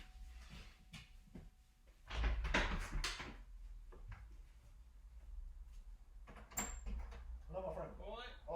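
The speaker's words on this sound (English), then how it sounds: "Let's open the door." A front door opening at home to receive a parcel delivery, a brief thud and rattle of the latch and door around the middle, with a voice talking and birdsong-like chirps near the end.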